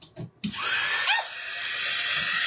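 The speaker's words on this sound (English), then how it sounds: "I'm gonna plug in my dryer" A craft hair dryer is switched on to dry Mod Podge, starting with a sudden click and then a steady, loud blowing whoosh with a rising whine. It runs continuously and close, after a brief burst of handling noise.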